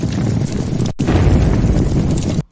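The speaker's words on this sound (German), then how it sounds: "Explosionspupsattacke." A comic exploding fart-attack sound effect, a loud broadband burst that roars for about a second, drops out briefly, then blasts again for over a second before cutting off abruptly.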